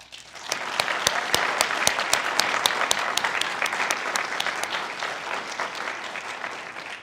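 Commencement audience at an NC State University mathematics ceremony breaks into sustained applause, a dense crowd clapping that starts abruptly and holds steady for several seconds before slowly thinning.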